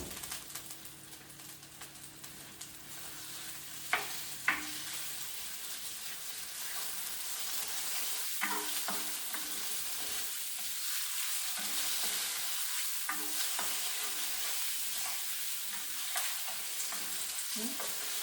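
Broccoli beef cooks in a pan with a steady, close sizzle and frying hiss, broken by a few sharp utensil clinks and scraping stirs, with no voices.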